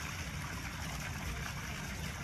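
Constant rushing splash of fountain water, loud and close, with the broad roar of the sea blending in behind it.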